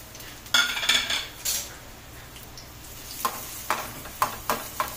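Sautéing in a pan for a spicy chicken gravy: a low frying hiss under clattering metal spoon scrapes and clinks against the pan, with several sharp knocks toward the end.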